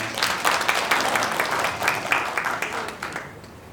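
An audience at a village community results-sharing event applauds a presenter with a lively burst of many hands clapping, fairly close and full, lasting a few seconds before tapering.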